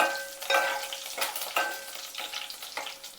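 Curry leaves fry and sputter in hot oil for a brinjal curry, with sharp crackling bursts and a sizzle that fades between pops, close and fairly quiet, no voices.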